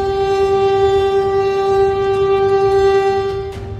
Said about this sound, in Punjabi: ਰੇਲ ਗੱਡੀ ਖੜੀ ਹਾਰਨ ਤੇ ਹਾਰਨ ਮਾਰ ਰਹੀ ਹੈ